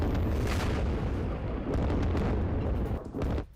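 US Air Force bombing of an Iranian ballistic missile launcher: a loud, close, continuous blast rumble with rolling bursts lasts a few seconds before cutting off.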